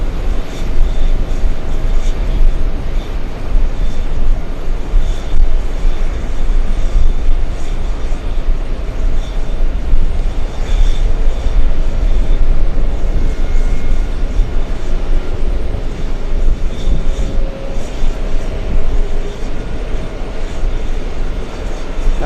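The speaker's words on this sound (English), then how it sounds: "Now that we did the camera adjustment, we can stay with the 747 a little longer." A Lufthansa Boeing 747 jet at JFK airport gives a loud, steady engine roar and rumble that holds for over twenty seconds without fading, heard alone with no talking.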